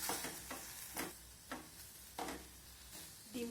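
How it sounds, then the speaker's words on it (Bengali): A spoon stirs a mixture of boiled potato, carrot and egg in a pan, scraping in a few distinct strokes over a soft, steady sizzle. "ডিমটা দেওয়ার পর অনবরত নাড়িয়ে চাড়িয়ে সব কিছুর সঙ্গে মিশিয়ে নিতে হবে।"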